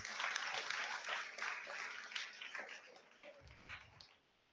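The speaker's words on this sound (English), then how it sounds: "Please give them a huge round of applause" School assembly applause for the principal, vice principal, guests and teachers, a faint, thin patter of clapping from a distance that fades out toward the end.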